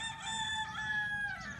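A rooster crows a long, drawn-out cock-a-doodle-doo, loud and close, with faint clucking from chickens at a beach stay in the Philippines, over a light outdoor background.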